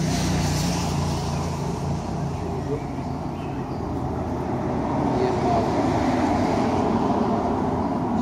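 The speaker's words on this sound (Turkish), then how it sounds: "Çok araba geçiyor ya." Cars pass along a road in Turkey, heard as a continuous roar of traffic that swells louder toward the end, close and steady, with someone talking faintly beneath it.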